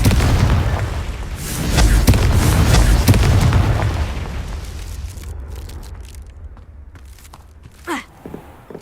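A loud blasting-curse explosion booms in a Hogwarts Legacy game scene, its roar swelling and rumbling for several seconds before fading. A few faint clicks and a short whoosh follow, with no talking.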